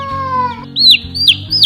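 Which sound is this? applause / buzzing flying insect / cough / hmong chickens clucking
hmong chickens clucking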